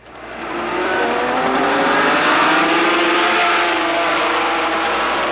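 Race cars in a C Production road-racing class accelerate together off the green-flag start, a loud, sustained roar of multiple engines building and holding with layered revving and faint tire squeal.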